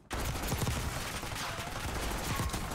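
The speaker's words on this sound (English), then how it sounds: "But they're shooting." Sustained gunfire in Call of Duty Black Ops 6 Warzone, a loud, continuous rattle of shots with no break across the whole moment.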